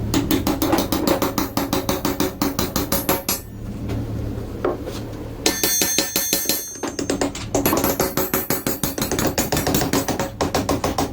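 Rapid metallic hammer strikes drive bolts through steel plates for an exhaust fan mount, sharp clanging blows in fast rhythmic bursts with brief pauses, close and loud.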